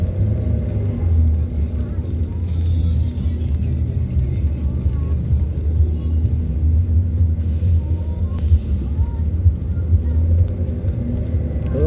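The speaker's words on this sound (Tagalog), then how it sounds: "Traffic pa rin dito kahit walang pasok." Road traffic with many tricycles on Recto Avenue in Lipa, Batangas, during a storm, makes a steady, close engine rumble that drones on without pause, with a few brief higher bursts from passing vehicles.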